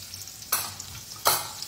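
Turmeric going into a frying pan with green chilies and being stirred, two sharp scraping stirs over a soft, steady sizzle.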